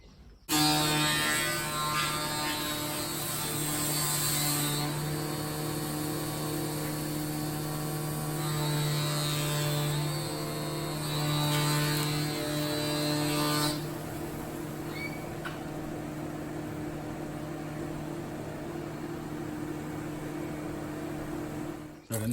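A thickness planer takes a couple of millimetres off each face of an English elm board recovered from mud. A loud, steady machine drone with a constant hum runs unbroken from start to finish.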